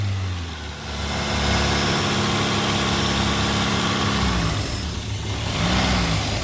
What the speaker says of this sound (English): the propane keeps the engine running